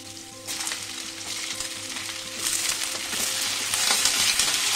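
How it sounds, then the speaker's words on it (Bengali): Potatoes frying in oil with panch phoron spice mix sizzle steadily and fairly close, the crackle broadening and growing louder partway through, with a few light stirring scrapes and no talking. "আলুটা একটু ভেজে নেবো ভালো করে 2-3 মিনিট।"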